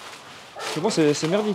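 A dog barks and yips a few times close by during a Marseille outing, mixed in with people talking in French over it.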